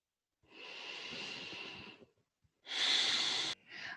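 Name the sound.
breathing during yoga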